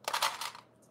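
Metal sewing clips snap onto the edges of a handmade fabric wallet: a brief, close cluster of bright clicking taps in quick succession that fades within a second, with no speech.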